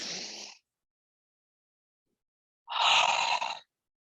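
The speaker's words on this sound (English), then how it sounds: "a big opened mouth exhale. With your mouth kind of wide. Big exhale from the throat." Two breathy, open-mouthed exhales pushed from the throat during a slow yoga flow, a short one followed by a longer, fuller sigh after a silent pause.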